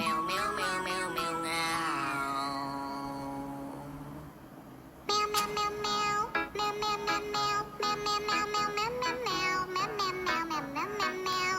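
Musical cat meows from a singing cat ice cream video game, one long sustained tone fading out, then a rapid run of bright pitched meow notes forming a cheerful melody, loud and without talk.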